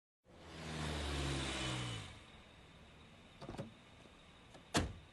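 Car engine starts and runs with a low rumbling hum for about two seconds, then fades to quiet idle, followed by two short sharp knocks like door sounds.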